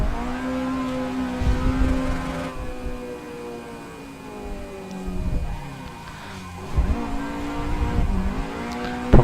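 Drift car in the Assetto Corsa racing game, engine revving hard and falling in repeated surges with tyres squealing through slides, loud and close, no talking.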